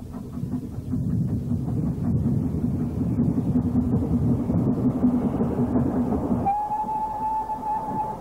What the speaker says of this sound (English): Freight train is also seen at Bournemouth.